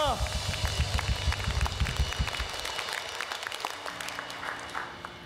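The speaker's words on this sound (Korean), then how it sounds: "큰 박수로 모든 영광 올려드립니다" A church congregation breaks into applause giving glory to God, the clapping close and rhythmic at first, then thinning out as a hum and scattered claps linger.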